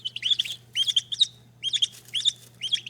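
Newly hatched turkey poults peep in bright, high chirps, delivered in quick clusters of two or three with brief pauses, close and clear over a faint steady hum.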